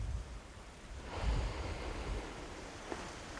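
Steady wash of ocean surf and wind along the seashore, a broad continuous roar that swells midway as a wave breaks, with gusty wind noise and no voices.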